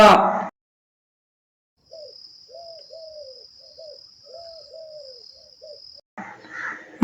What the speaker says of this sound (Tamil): புறா